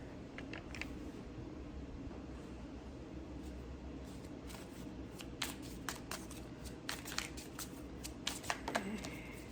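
Tarot cards shuffled and dealt out by hand, a soft, continuous riffling and sliding close by, with sharper slaps and flicks of cards landing toward the end.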